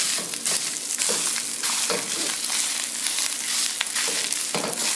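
Fried rice, a half batch of about two cups of cooked rice, cooks in a hot pan with a loud, close, constant sizzle broken by occasional scraping and crackling bursts.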